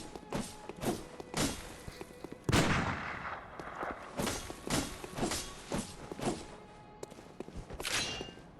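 Repeated gunshots from the Bloodborne action game, spaced at an uneven rhythm with heavy thuds between them, one larger blast standing out midway, close and fairly loud.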